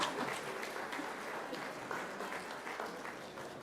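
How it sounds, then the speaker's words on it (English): Steady, dense applause fills a large audience hall at a management association foundation day event, a sustained roar of many hands clapping as a speaker is welcomed on stage. "Please welcome him with a huge round of applause."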